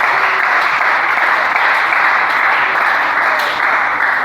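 A church congregation applauds to acclaim Jesus, with steady, dense clapping that holds loud and even throughout and no talk heard.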